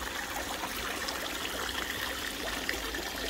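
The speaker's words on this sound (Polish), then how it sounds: "Tu się woda cały czas filtruje." Water trickles steadily through a bucket filter beside a garden swimming pool being cleared of green, murky water, a soft, continuous wash with no voices.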